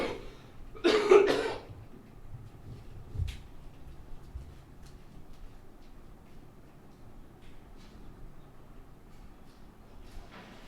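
A person gives a short burst of phlegmy coughing near the start, followed by a single smaller cough, then quiet room sound.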